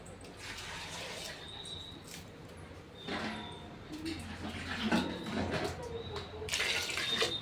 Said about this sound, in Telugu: దీంట్లోకి అయితే వాటర్ పోసుకుందాం.